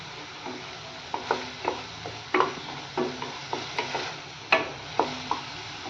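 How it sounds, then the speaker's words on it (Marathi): Tomato puree frying with onions in oil for a dhaba-style chana masala, a soft sizzle under repeated rhythmic stirring scrapes of a spoon against the pan, close and steady. "तेल सुटेपर्यंत टोमॅटोची प्युरी ही छान भाजून घेऊया."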